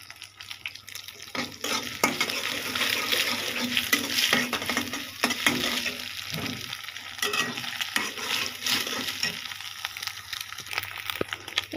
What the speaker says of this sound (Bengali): এই তো ডিমটা ভাজা হয়ে গেছে